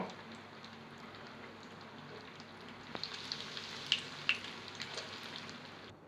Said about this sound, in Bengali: আমরা তেলে ভাজছি